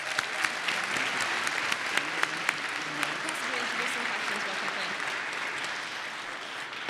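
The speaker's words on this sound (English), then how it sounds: "Can we just have one more round of applause for Dr. Guinness, please?" An audience at a talk claps together in steady, sustained applause with scattered sharper claps, filling the room evenly for several seconds at moderate loudness.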